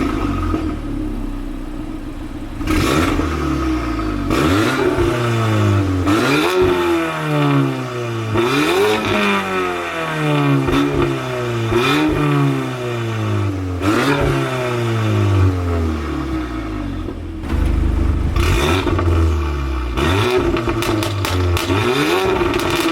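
Loud VW Mk8 Golf R engine, stage 2 with OPF delete and decat, revved repeatedly in sharp blips with exhaust valves open, each rising and falling quickly, with a harsh exhaust roar and clattering pops between revs.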